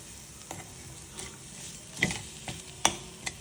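Coriander powder and turmeric fry in a pan under a faint, soft sizzle, with a few sharp scrapes from stirring coming at uneven intervals. No one talks.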